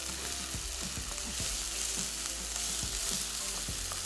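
Chicken frying in a pan, a continuous loud sizzle with rhythmic scraping thuds from stirring every half second or so, close and steady with no voices.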